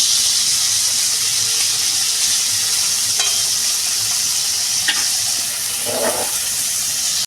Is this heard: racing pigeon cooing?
no